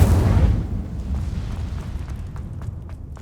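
A fiery burst from the Incendio spell in Hogwarts Legacy, opening with a loud whooshing boom that decays into a crackling, rumbling roar over a few seconds.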